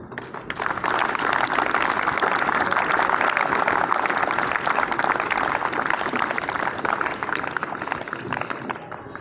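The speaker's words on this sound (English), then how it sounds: "Please clap for him" Students clapping at a school morning assembly, a broad continuous wave of many hands from a large group, loud and sustained, with faint voices mixed underneath.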